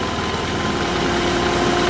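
A wood lathe spins a maple crotch blank at about 1200 RPM, giving a steady, dense mechanical hum with a constant tonal whine and no voices.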